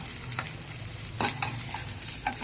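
Tempering for a paneer curry sizzles in hot oil, a soft steady crackle broken by a few sharper spits and stirring scrapes, close by and without talk.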